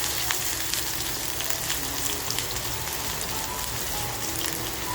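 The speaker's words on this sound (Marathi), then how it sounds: "तेल बघा छान तापल्यानंतर आलं आणि लसूण जे आपण मोठी कापून घेतली आहे ती टाकून घेऊया." Large-cut ginger and garlic sizzle in hot oil with a dense, continuous crackle and spitting, close and steady throughout, with no talk.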